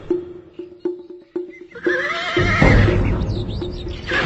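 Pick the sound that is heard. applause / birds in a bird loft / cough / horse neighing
horse neighing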